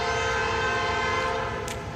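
Norfolk Southern Dash 9 locomotive 9406, leading a freight train in Suffolk, sounds a loud, sustained, chord-rich horn over its rumbling diesel engines, close and continuous.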